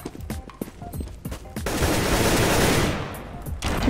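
Rapid gunfire in the CS:GO video game: a string of sharp single shots followed by a dense, sustained burst of automatic fire, loud and close, with no talk over it.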